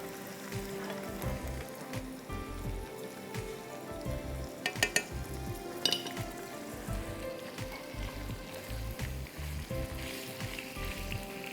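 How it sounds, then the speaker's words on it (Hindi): Minced meat (keema), whether beef, chicken or mutton, frying in a pan with a steady, dense sizzle and scraping stir strokes throughout, sounding close and continuous. "फिर आप इसमें डालिए कीमा, बीफ का हो, चिकन का हो, मटन का हो, जो भी। अच्छी तरह इसको भूनिए।"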